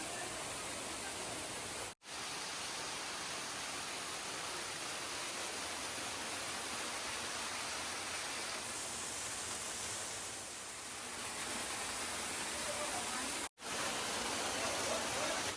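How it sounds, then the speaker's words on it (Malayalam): A waterfall plunges through a naturally carved hole in the rock at the Garden of Caves, Cherrapunji, Meghalaya, in the monsoon: a constant, even roar of falling water heard alone, with two brief dropouts. "കല്ലിൽ സ്വാഭാവികമായിട്ട് കൊത്തിയെടുത്ത ഒരു ദ്വാരത്തിലൂടെയാണ് വെള്ളച്ചാട്ടം താഴേക്ക് പതിക്കുന്നത്"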